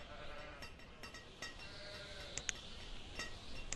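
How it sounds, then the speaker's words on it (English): Sheep bleat faintly within the village-building game Banished, with a few thin calls and light clinking over a steady ambient bed. "Now we're gonna have 2 sheep pens running."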